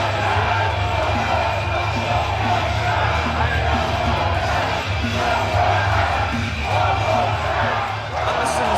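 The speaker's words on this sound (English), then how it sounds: "And the crowd want it one more time." A wrestling crowd at a Carlisle show cheers and yells in a dense, steady roar of many voices. Swelling shouts rise now and then across the whole stretch.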